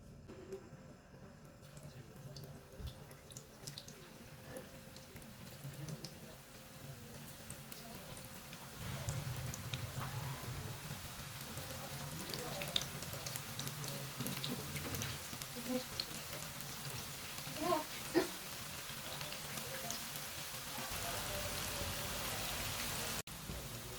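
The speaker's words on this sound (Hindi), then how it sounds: "ऑयल हमारा अच्छी तरह गर्म हो चुका है। अब एक एक करके कद्दू की चिप्स डाल लेंगे।" Flour-coated pumpkin chips fry in hot oil, a steady crackling hiss that builds and thickens as more slices go in, with scattered sharper pops over the continuous sizzle.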